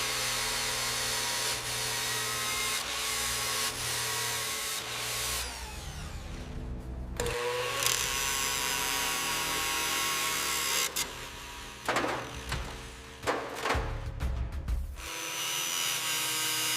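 A loud, continuous power sander grinds against a rusted Rolls-Royce body panel, its whine steady for long stretches, broken by brief pauses and bursts of rougher scraping.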